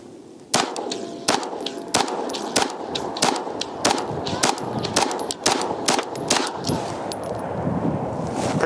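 Sharp shots from a Dan Wesson DWX pistol ring out one after another at a steady pace on a shooting range, each a loud crack with a brief metallic ring, around a dozen in total.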